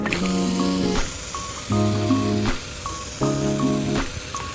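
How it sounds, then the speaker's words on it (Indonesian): A hand pump sprayer mists water over a freshly sown pak choi seed bed in repeated short hissing bursts about a second apart, with steady tonal background noise between them. "Sekarang tinggal disemprot ya"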